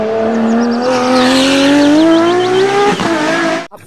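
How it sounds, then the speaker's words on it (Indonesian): Loud race car sound effect from a toy race car, a rising engine whine with squealing tire chirps, building for about three seconds before cutting off abruptly. "Mobil balap."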